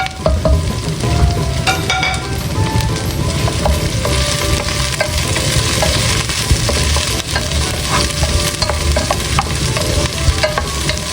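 Garlic, ginger and onion sautéing in a pan over a fire, a continuous loud crackling sizzle with occasional clinks of a utensil stirring, close and steady throughout with no speech.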